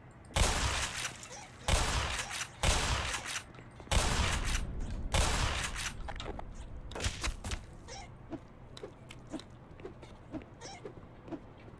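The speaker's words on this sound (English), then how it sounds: "Well, I could use the rocket launcher." Rocket launcher fire in a video game: several loud broadband blasts in the first four seconds, then a run of sharper, lighter cracks and impacts that fade toward the end, with no talk.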